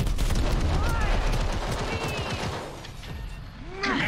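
Rapid bursts of gunfire trade back and forth in a video game firefight, dense cracking shots up front over a busy combat mix, easing off toward the end.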